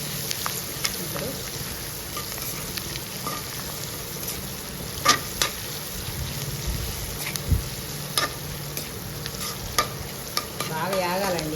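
Onions and green chillies fry in a pan with potatoes and turmeric for a potato curry, giving a continuous close sizzle broken by stirring scrapes and clinks.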